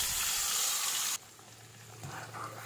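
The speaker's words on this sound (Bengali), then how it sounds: "এবারে যে তেলে মাছ ভেজেছিলাম ওই তেলেই আমি কালো জিরে আর কাঁচা লঙ্কা ফোড়ন দিয়ে দিচ্ছি" Nigella seeds and green chillies hit hot oil left from frying fish, a loud bright sizzling hiss close up that cuts off abruptly partway, leaving a faint low crackle and kitchen rumble.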